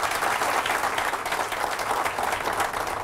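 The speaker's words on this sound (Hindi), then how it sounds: "सबसे पहले जोरदार तालियां" Steady, full applause from an audience at a motivational training session in Mumbai, a dense unbroken clapping that holds at even loudness throughout.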